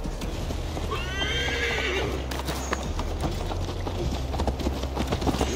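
In the video game Assassin's Creed Valhalla, a nearby horse lets out a loud, shrill neigh while its hooves clip-clop steadily underneath, galloping on over a constant background rumble.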